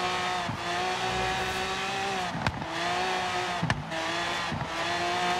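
A supercharged V12 Lamborghini Aventador in Forza Horizon 3 holds a loud, steady, harmonic engine drone with brief sharp dips and surges as revs shift. No talking.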